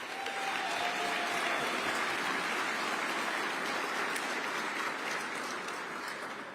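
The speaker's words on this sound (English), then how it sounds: "So can we give the Department of Veteran Services a round of applause?" Crowd at a New York City Veterans Day event applauding the Department of Veteran Services, a dense, sustained clapping that holds steady throughout and tapers slightly at the end.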